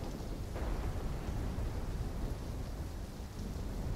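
A thunderstorm rages in the Black Ops 3 campaign, steady heavy rain hiss layered over a deep continuous rumble, loud and unbroken without any voices.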